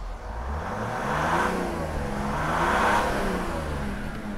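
A Mercedes engine revs up after a faulty crankcase breather valve was replaced, a smooth mid-pitched rise and fall swelling twice over a steady idle, close by and heard alone.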